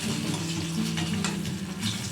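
Steady, close sizzling of eggplant frying in a hot pan, a continuous crackling hiss with a low hum underneath and no voices.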